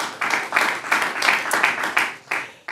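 Clapping breaks out from an audience at a public board meeting, a dense burst of hands that swells and dips in short waves for a few seconds, with no talk over it.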